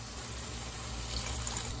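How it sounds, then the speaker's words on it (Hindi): Water is poured into spices frying in a pan for biryani, giving a steady broadband hiss and splash that rises slightly toward the end, fairly faint and with no talking. "इसके अंदर हम थोड़ा सा पानी डाल देंगे ताकि मसाले ना जले।"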